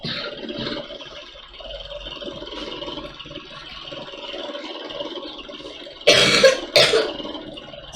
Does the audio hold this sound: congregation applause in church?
no